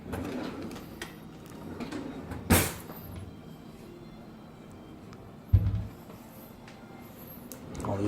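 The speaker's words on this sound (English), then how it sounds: "All these drawers open." Drawers in a Gold Series kitchen island slide and shut with two distinct knocks about three seconds apart, over faint room noise and soft background voices.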